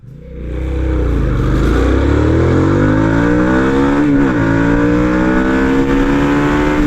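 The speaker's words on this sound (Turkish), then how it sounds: "Şimdi bir 0-100 hızlanma deneyeceğim. Düşük devirden itibaren gelen o torku size göstereceğim." A Barossa GV 650 cruiser motorcycle pulls hard from low revs in a 0-100 acceleration run, its loud, close engine note climbing steadily through the gears with a brief dip at a shift.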